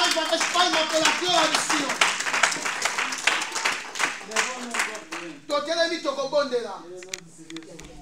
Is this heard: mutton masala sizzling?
no